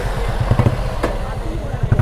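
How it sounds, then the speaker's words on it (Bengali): A motorcycle engine runs with an uneven, odd-sounding rumble on a winter morning road ride, a steady low throb with irregular pulses, close by under a noisy background. "ওর বাইকে এরকম শব্দ হচ্ছে কেন?"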